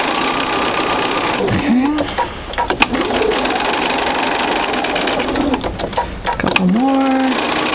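A sewing machine stitching a Dresden quilt circle hums steadily with a rapid needle rhythm, running almost throughout, while someone talks briefly over it.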